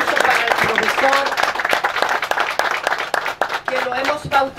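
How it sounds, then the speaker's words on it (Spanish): A crowd at a ceremony applauds a speaker, dense clapping running steadily for a few seconds and tapering toward the end, with people talking over it. "Un aplauso para el profesor"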